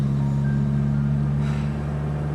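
A classic 1.6-litre 1970s coupé, an Opel Manta A 1.6 SR or Fiat 124 Sport Coupé, runs at a steady idle with a loud, even low rumble close by and a faint rise in the middle, no voices.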